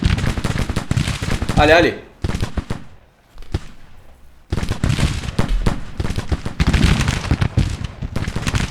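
Soldiers fire rifles in Grand Tactician: The Civil War, giving ragged musketry volleys that crackle loudly, fade to a lull, then burst out again in heavy rolling fire, with someone talking over the shooting.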